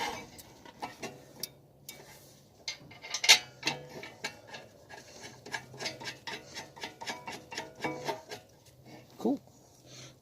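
Bolting the brake caliper bracket back onto a 2003 Acura TL: a run of quick metallic ratchet clicks and ticks with tool clanks, close up and fairly steady throughout.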